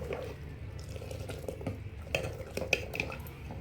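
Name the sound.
stirring spices into kadhi in a pot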